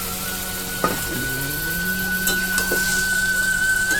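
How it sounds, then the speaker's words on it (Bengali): Salt-and-turmeric marinated chicken goes into frying masala in a pan for Chicken Afghani, a steady sizzle with a sharp clatter as the meat lands and a continuous frying hiss that follows. "এই দেখো সেই নুন হলুদ মাখানো মাংসটা আমি দিয়ে দেবো মধ্যে"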